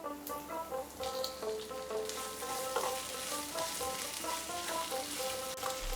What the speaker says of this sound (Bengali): এক থেকে 2 মিনিট আমি এটাকে একটু কষে নেব।